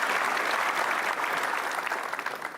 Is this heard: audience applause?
yes